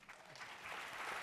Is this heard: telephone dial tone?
no